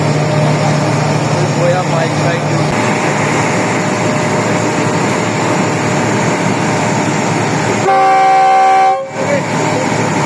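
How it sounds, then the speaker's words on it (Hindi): At a Lahore station, locomotive 9013 leading the new Pak Business Express sounds one loud, sustained departure horn blast near the end, over a steady engine and crowd hum. "अगले डिपार्चर हारन के साथ, अगले हारन के साथ ट्रेन डिपार्ट करेगी"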